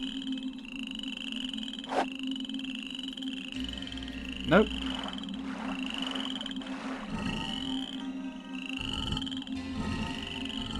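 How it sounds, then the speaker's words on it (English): Frogs croak repeatedly in the 1998 adventure game King's Quest 8, a chorus of rhythmic calls over a low ambient hum, with one brief spoken word. "Are those frogs? I think those are frogs."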